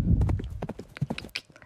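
Hooves clip-clop in a quick, uneven rhythm as a horse works over a show jumping course, close and fairly loud, with no talk over them.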